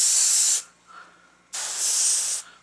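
Two loud bursts of aerosol spray hissing close by, each lasting about half a second to a second, separated by a brief quiet gap.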